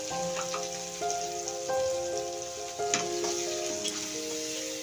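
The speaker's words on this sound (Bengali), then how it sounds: "এখন পেঁয়াজটাকে ভালোভাবে ভেজে নিতে হবে।" Chopped onion fries in hot oil with dried red chillies and whole garam masala for a palak paneer dish, making a steady close sizzle with light crackles and a few stirring taps. A soft musical tone plays underneath.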